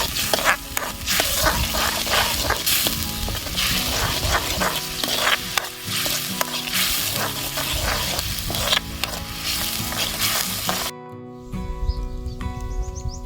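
Dhokla ingredients, including lemon juice, being stirred together in a village-style kitchen, a steady wet churning and scraping that runs continuously and close, with a ringing metallic tone near the end.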